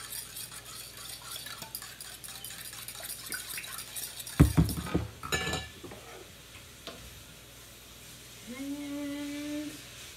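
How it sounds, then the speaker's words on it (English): Sauce ingredients for a healthy chow mein are whisked together, a brief burst of rapid metallic clicking and scraping in the middle of an otherwise quiet kitchen, followed by a faint hum. "And I just whisk this all together."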